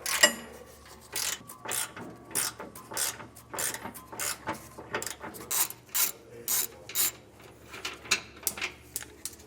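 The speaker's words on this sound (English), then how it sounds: "you're going to need a 15mm socket. And there's just going to be 2 flange nuts to remove" A ratchet fitted with a 15mm socket clicks in repeated short bursts as flange nuts are loosened during a rear air helper spring installation, close and crisp, rhythmic strokes separated by brief pauses.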